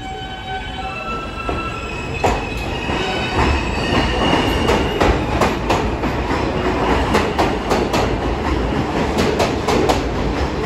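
A New York subway train rolls into 34th Street–Herald Square station, loud and close, with rumbling wheels, rhythmic clickety-clack over rail joints and high squeals from the wheels, no talking.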